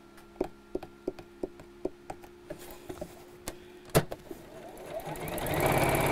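A home sewing machine stitches around the outside of a box seam on a rope-handle bag, giving a run of evenly spaced close mechanical ticks, then one sharper clunk and a rising whir at the end.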